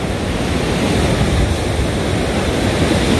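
Ocean surf washing onto the shore at Sugar Beach in Sipalay, a steady, loud roar of breaking waves and rushing water with no voices, continuous through the whole stretch.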